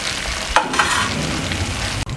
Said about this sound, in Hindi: ये कंप्लीट फ्राई हो चुकी हैं।